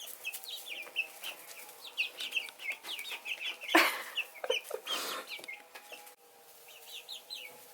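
Chickens in a new backyard coop clucking and squawking almost continuously, many birds close by, with a louder flurry of flapping and scuffling midway and steady overlapping clucks throughout.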